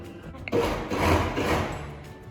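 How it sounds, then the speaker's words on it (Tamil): A blender whirs for about two seconds, starting abruptly and holding a steady motor drone as it mixes avocado chocolate mousse. "இப்போ இது அகெயின் இன்னும் ஒரு 2 செகண்ட் பிளெண்ட் பண்ணிடலாம்"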